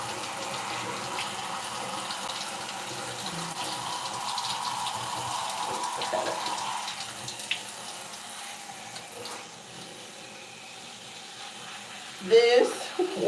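Water runs steadily from a tap while hair is being wetted, a soft continuous hiss that thins out midway, with a person speaking over it.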